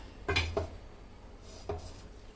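A few quiet metallic clanks as a pot of chicken dum biryani is set down on a hot griddle, two quick knocks followed by another a moment later.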